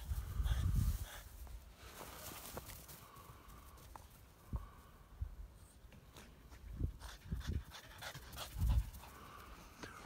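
A French Bulldog pants heavily after chasing a ball on a field, quick raspy breaths close by, with footsteps and a few louder huffs and thumps along the way.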